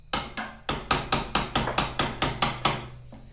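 Hammer strikes drive a small chisel into hot metal to start the mouth line on a forged ram's head, about ten sharp, evenly spaced metallic blows ringing close and loud with no talk.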